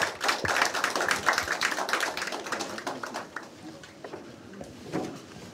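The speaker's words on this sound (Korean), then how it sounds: "박수로 맞아주시기 바랍니다" An audience at a press conference applauds to welcome a Gyeongbuk education superintendent candidate, a dense burst of moderate clapping that thins out and fades over a few seconds.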